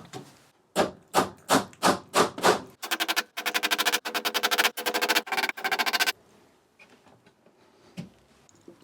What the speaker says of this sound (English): put some extra nails in here to strengthen it